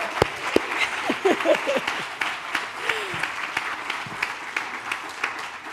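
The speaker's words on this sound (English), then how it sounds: "clap it up" Conference audience applauding steadily at a film event, a dense wash of clapping with a few whoops and cheers riding over it, continuing for several seconds at moderate distance.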